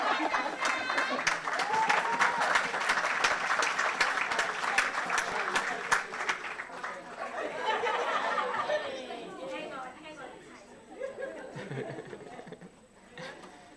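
Audience at a university research week awards session applauding for several seconds, dense clapping mixed with chatter and some laughter, then thinning out into murmuring voices.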